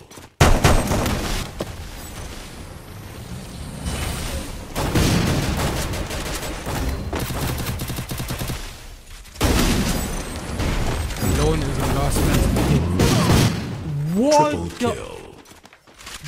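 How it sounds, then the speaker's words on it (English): Grenades exploding on a vehicle in a multiplayer shooter, several heavy booms and bursts of gunfire in quick succession amid chaotic battle noise, with voices talking throughout. "The amount of nades that just fell onto that man's vehicle"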